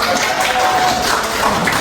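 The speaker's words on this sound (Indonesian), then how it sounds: "Kalau menurut Bapak kasih tepuk tangan dulu." Students in a classroom clapping their hands together, a steady dense patter of applause filling the short moment, fairly loud and close with room noise mixed in.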